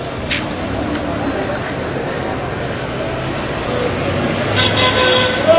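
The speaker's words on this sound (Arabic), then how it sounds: "قصف عني في طائرة الميج" MiG jet aircraft over Aleppo during a bombardment, a steady distant roar lasting several seconds that rises slightly toward the end, heard outdoors with faint tonal whines.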